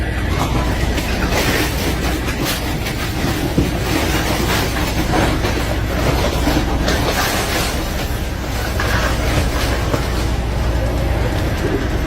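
A locomotive-hauled train rumbles through a level crossing in Brazil, a loud, continuous roar of wheels and rolling stock with faint rhythmic clatter and a voice speaking over it.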